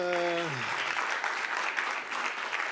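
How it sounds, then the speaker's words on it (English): Applause from an audience at a supply chain talk, with a voice sliding down in pitch at the start before an even, continuous clapping carries on steadily. "give a round of applause for Fernando"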